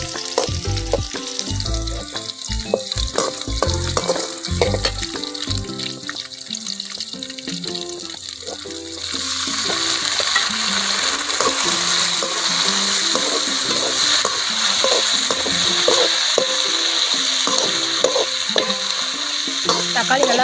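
Tomatoes frying in a pan while a Tamil dry fish gravy is cooked; the sizzle begins muffled with stirring, then steady, loud frying fills the rest, with scraping and stirring throughout and no talk.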